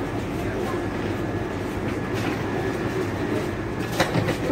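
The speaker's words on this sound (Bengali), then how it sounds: "এটা হচ্ছে এয়ারপোর্ট মেট্রো," Delhi Airport Express Metro train running, a steady, close rumbling roar from inside the carriage with a brief louder swell near the end.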